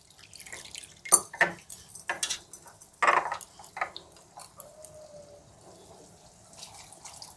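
Water splashes and drips into a cooking pan of taro curry in a few short bursts, then trickles off into quieter, scattered drips.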